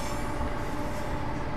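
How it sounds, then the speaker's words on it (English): A Train Simulator 2015 train coasting at 20 mph on the Glasgow Queen Street to Edinburgh route gives a steady, close rumble of wheels on rail with faint rhythmic clicking, continuous and unbroken. "I'm just going to allow the train to continue to coast at 20."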